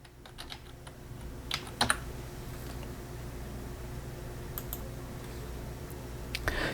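Quiet, scattered keystrokes on a computer keyboard, short bursts of clicks with pauses between, over a faint steady background hum.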